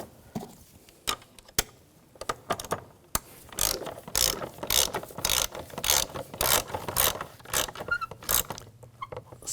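A hand ratchet tightens the battery hold-down on a 2011-2018 Volkswagen Jetta, giving bursts of rapid, close metallic clicks with short pauses between strokes, and no talking.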